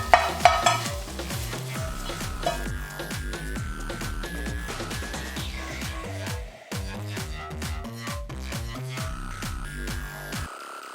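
Fried mushrooms are stirred into a sizzling vegan Mongolian-style sauce in a pan, with a steady close sizzle and repeated scraping stir strokes, louder at first and then settling, no talk.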